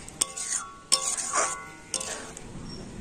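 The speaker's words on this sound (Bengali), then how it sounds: "আর এখন আমি তরকারিটা নামিয়ে নিচ্ছি" A pot of potato curry lifted off the stove: metal clinks and scraping knocks of the pot and utensils, several distinct taps with short ringing tones, close and fairly loud.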